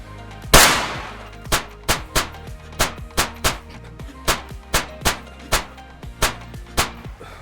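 Suppressed 300 Win Mag shots from an internally suppressed HoneyBadger rifle in a video game, a loud first report followed by a steady run of about fifteen evenly spaced sharp cracks, close and alone.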